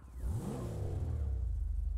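Toyota Supra engine revving in a modded GTA 5, the pitch rising sharply and then settling into a steady, close, throaty hum.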